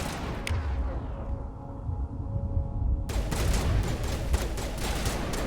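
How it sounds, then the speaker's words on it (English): Shotgun fire in the video game Mass Effect, a dense burst of loud blasts and combat noise up close, with a short lull before heavy gunfire resumes and continues to the end. "I have a shotgun, so this is working."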